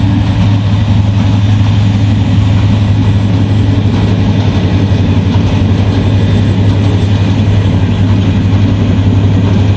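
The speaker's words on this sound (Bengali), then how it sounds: "যাবার পথে ট্রেন কিন্তু একবারে খালি" Inside a moving passenger train, a loud, continuous low rumble and hum of wheels and carriage dominate steadily throughout, with no voices.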